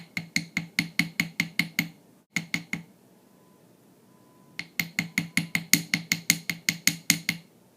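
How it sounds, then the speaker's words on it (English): Ball end of a hammer tapping flattened metal wire for starfish earrings: rapid runs of crisp, ringing metallic taps in even bursts, a short pause, then another long series, close and clear. "Turn it over to use the ball end and tap on the flattened areas."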